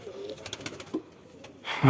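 Domestic pigeons kept on a house rooftop give a few soft low coos at close range, followed by a brief rustle of movement.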